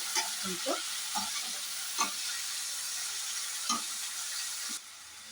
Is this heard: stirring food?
yes